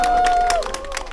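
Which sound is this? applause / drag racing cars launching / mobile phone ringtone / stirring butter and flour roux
applause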